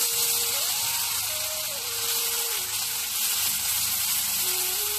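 Chopped tomatoes sizzle in a hot frying pan, a steady bright hiss that stays level throughout, with a faint wavering tone running underneath.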